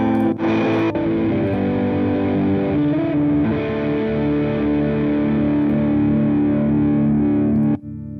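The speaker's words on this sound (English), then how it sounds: "these are all a bunch of distortion ones that are going through here" An electric guitar plays through distortion amp simulator effects, with thick, saturated sustained chords and notes ringing loudly and continuously, a brief bright burst near the start, then a sudden cutoff near the end.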